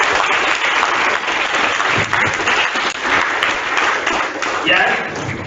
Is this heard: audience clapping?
yes